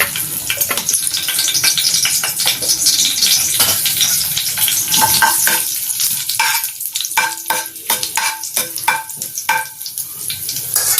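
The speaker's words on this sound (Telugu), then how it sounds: "తాలింపు వేగుతుంది కదండి." Dried red chillies fry in heated oil in a kadai for a tempering, crackling and sizzling loudly up close. A utensil stirs with repeated scraping clicks, and the sizzle thins into sparse pops toward the end.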